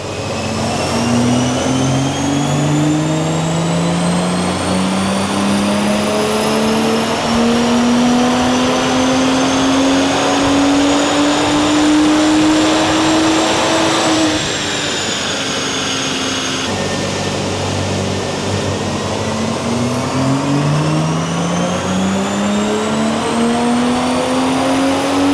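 A BMW M240 G42 engine with a Stage 1 ECU map revs hard on a dyno and climbs steadily in pitch, drops off, then winds up again, loud and close with a whining rise throughout.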